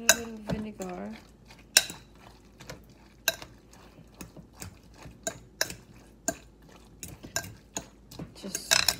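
Metal utensils clink and scrape against a bowl in irregular strokes while grilled eggplant salad is tossed with date vinegar. The sounds are close and clear, with brief quiet speech between them.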